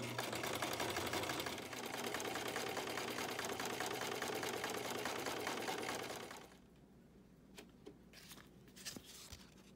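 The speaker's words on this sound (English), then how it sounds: "we're gonna be squeezing the two edges together and feeding it through" A sewing machine stitches a seam through squeezed-together edges of craft foam, running with a steady, close mechanical whir for about six seconds before stopping. A few faint handling clicks follow.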